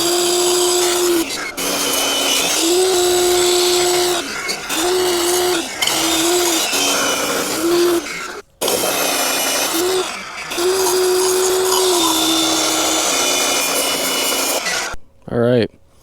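A pressure washer on low pressure sprays a deer skull, the loud hissing jet running in long bursts broken by brief pauses and a few short gaps near the end.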